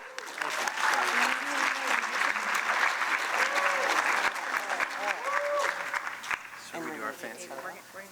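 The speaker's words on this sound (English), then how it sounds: "Round of applause for that." An audience claps warmly at an awards ceremony during a 2023 conference on homelessness; the applause stays dense and fairly loud for several seconds, with voices talking over it before it thins out.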